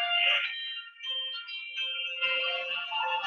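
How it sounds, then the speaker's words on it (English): An incoming call rings on a phone as a melodic ringtone, a run of clear electronic tones playing close and alone for a few seconds with no voices. "I got a phone call."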